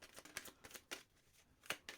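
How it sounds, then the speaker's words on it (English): Tarot cards being shuffled by hand, a quiet run of soft papery riffles and flicks in uneven bursts, close up with no talk. "Last shuffle."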